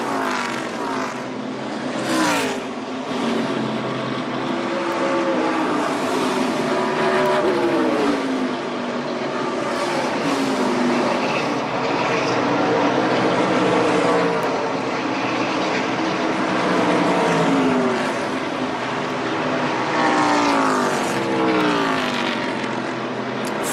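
ARCA stock race cars at full speed on the Dover oval during a late-race stretch, a loud continuous engine roar with overlapping pitch sweeps as cars pass through the turns and down the backstretch.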